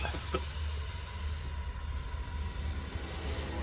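Steam hisses steadily in the video game A New Beginning, a continuous, even broadband hiss that stays fairly quiet throughout with no speech over it.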